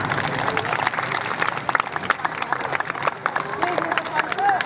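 Applause for club members at a monthly football club activity event in Thailand: a crowd claps steadily and densely throughout, with some cheering and background chatter mixed in.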